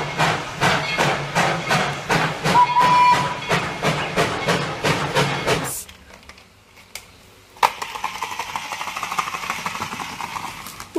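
A Thomas toy train chugs in a steady, rhythmic beat with a short whistle tone, then stops, followed by clicks and handling noise.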